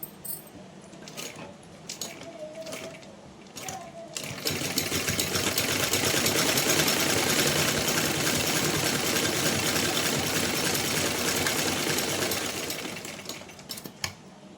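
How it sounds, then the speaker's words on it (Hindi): A sewing machine runs a steady continuous stitching burst for about eight seconds, hemming cloth edges for a Laddu Gopal dress, with brief clicks and handling noises before and after. "कपड़े के किनारों को अच्छे से पकड़कर बराबर करने के बाद ही सिलाई लगाएंगे"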